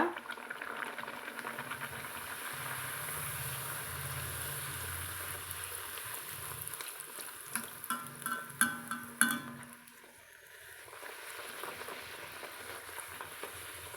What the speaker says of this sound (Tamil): நம்மளுக்கு எண்ணெய் அதிகமாக இழுக்காமல் உப்பளா பூரி நல்லா மொறு மொறுன்னு பாருங்கள் எப்படி சத்தம் கேட்குதுன்னு